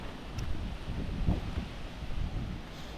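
Strong wind gusts at a mountain viewdeck buffet the microphone, producing low rumbling roar in uneven surges, with no clear voices.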